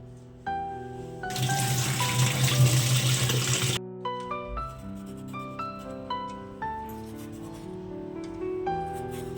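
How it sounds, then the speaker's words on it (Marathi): Tap water gushes for a couple of seconds while raw green mangoes are rinsed, a steady hissing rush that stops abruptly and gives way to light background music. "सर्वात पहिले मी कैरी घेतलेली आहे, ती मी स्वच्छ धुवून घेणार आहे."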